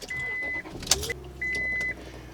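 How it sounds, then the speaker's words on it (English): A car starts up: electronic warning chimes sound, a brief starter crank follows, and the engine settles into a low idle beneath another chime. "Let me start the car."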